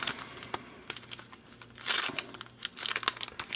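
Crisp, close crinkling and tearing of wax-pack wrappers as 1988 Donruss, 1984 Topps and 1990 Score baseball card packs are opened, in irregular bursts without talk.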